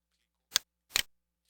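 Two quick computer mouse clicks, close and sharp, spaced roughly half a second apart in an otherwise quiet room, with no talk.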